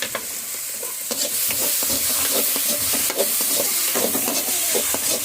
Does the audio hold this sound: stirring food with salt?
yes